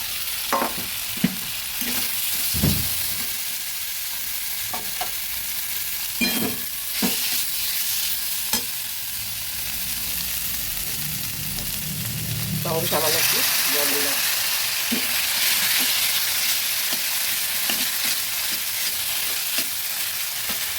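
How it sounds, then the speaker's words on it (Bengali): Boiled mung dal added to fried spices in a pan for a bottle gourd dish: intermittent stirring clinks and crackle, then a louder, sustained hiss of sizzling as the dal goes in, steady to the end. "মশলাটা ভাজা হয়ে গেছে এবার আমি সেদ্ধ করা ডালগুলো দিয়ে দিচ্ছি"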